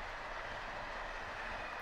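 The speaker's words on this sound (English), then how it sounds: "This is one of the three daily trains to Toulouse." A passenger train bound for Toulouse, hauled by a 200 km/h Sybic dual-system locomotive with refurbished Corail coaches, gives a faint, steady rolling rumble heard alone.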